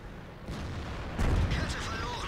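Artillery fire in the World of Tanks video game, heavy low booms and rumbling blasts close up with shell impacts, a louder concussive burst midway, under a continuous game soundscape with someone talking.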